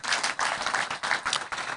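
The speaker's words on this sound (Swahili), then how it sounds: "mpigieni makofi" Dense, steady applause from an outdoor crowd at a UDA political rally in Kenya as a supporter is introduced, loud and continuous for the whole moment with many overlapping hands.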